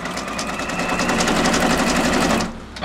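A Brother BabyLock Alliance single needle embroidery machine stitches in a steady, loud, rapid mechanical rhythm, running alone and close up before stopping near the end.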